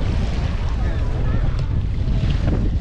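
Gusty sea wind buffets the microphone on a beach in Hurghada, Egypt, where sailboats are out on the water. The wind is a constant, loud rumble with a faint wash of surf.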